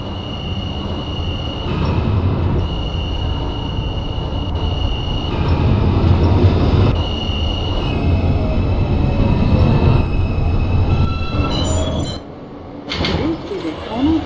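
Simulated R160A subway train on the Q local toward Coney Island–Stillwell Avenue, in the OpenBVE train game, rumbles steadily at close range with a whining motor tone, brief wheel squeals and a door-like clunk near the end.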